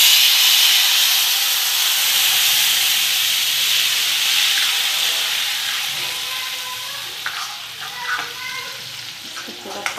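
Puree is poured into hot oil with browned cumin for chole, setting off a loud, steamy hiss that slowly fades into softer bubbling sizzle with scattered stirring clicks.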